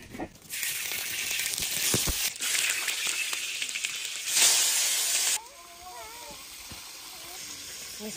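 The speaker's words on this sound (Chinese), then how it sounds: "妈妈准备炒菜了" Vegetables stir-fried in a wok in a home kitchen give a loud, steady sizzling hiss with a brief stronger burst midway, then the sizzle drops and a distant chirping sound carries on over quieter frying.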